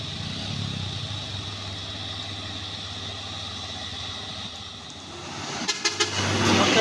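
A large Hino truck carrying heavy equipment drones steadily at low pitch on a hill climb, then a few short horn toots sound near the end as the motor revs louder.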